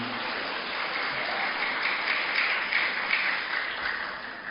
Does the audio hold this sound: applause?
yes